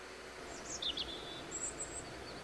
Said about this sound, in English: Ah, the sweet sound of birds.